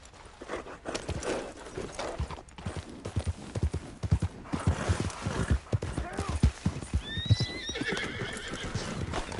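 Hooves clip-clop steadily on a horse in a PS4 video game, moderately close, with whinnies mixed in and a few thin high calls near the end.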